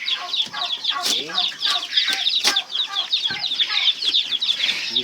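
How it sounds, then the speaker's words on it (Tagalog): A crowd of newly hatched chicks peep inside a big incubator, dense overlapping high chirps close by, with a few sharper louder cheeps and soft flutters and knocks underneath. "There are plenty of chicks inside."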